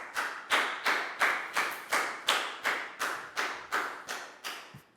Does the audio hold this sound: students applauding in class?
yes